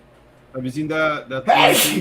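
A single loud, sharp sneeze bursts out right after someone speaks, close to the microphone during a casual live chat.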